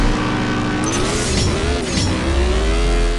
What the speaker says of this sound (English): I'm just gonna let it redline and see what happens